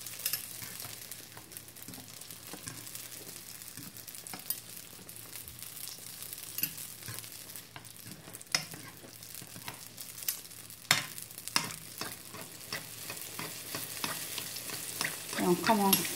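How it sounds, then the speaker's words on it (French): Algerian sfenj (khfaf) dough frying in hot oil, a steady close sizzle with small bubbling crackles and occasional pops, rising slightly near the end as oil is spooned over the fritter; no talking. "Et on commence à mettre l'huile par-dessus."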